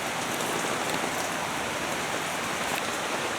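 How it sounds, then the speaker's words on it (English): Steady rain falls across the whole stretch, a dense even patter with no pauses, close and moderately loud, and no voices over it. "Lovely rain, loving it."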